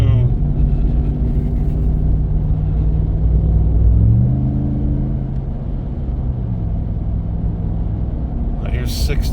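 Ram 1500 DT pickup with a Flowmaster Dual Mode muffler cruising near 60 mph with a window open, a steady loud exhaust rumble and drone that dips slightly as it shifts around 4,000 RPM, under road noise.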